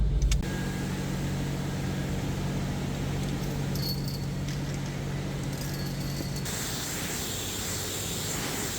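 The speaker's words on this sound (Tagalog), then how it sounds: "medyo malakas yung ating exhaust" A loud car exhaust rumbles steadily close by, the engine idling with a constant low drone and no voices.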